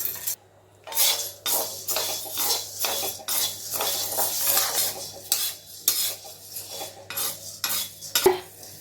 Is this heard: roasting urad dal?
yes